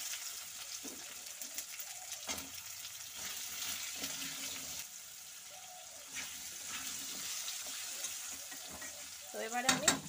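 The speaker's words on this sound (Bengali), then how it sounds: "তো এবারে আমি আলুগুলো ভেজে নেব" Potatoes fry with cumin seeds in a pan for a Bengali prawn and potato curry, a soft steady sizzle heard from close by, with faint clinks and a brief louder scrape near the end.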